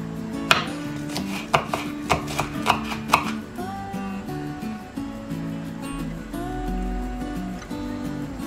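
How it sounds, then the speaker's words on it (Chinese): A kitchen knife chops scallions into thin shreds on a cutting board, a run of sharp, close taps in quick irregular bursts at first, then sparser cuts with faint handling noise between. "再切点葱丝儿"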